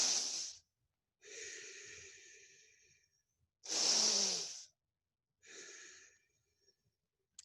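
Slow, deliberate yoga breaths in a quiet room: four clear breathy inhales and exhales, with two longer airy inhales alternating with shorter sharp breaths, each separated by silence, close and moderately loud with no talking.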